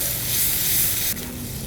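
Coconut tomato puree hits hot oil in a pan with a bright, hissing sizzle that stays loud for about a second, then drops to a quieter steady fizz.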